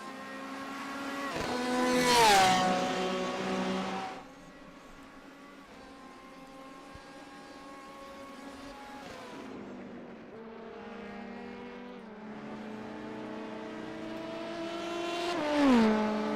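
An LMP2 prototype race car at Watkins Glen: a high-pitched engine screams loudly as it accelerates, drops to a lower steady drone with shifting tones, then rises again into another close, piercing rev near the end.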